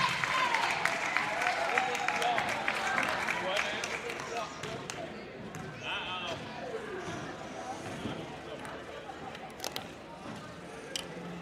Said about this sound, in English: How about another round of applause as Chasen wins a free Domino's pizza.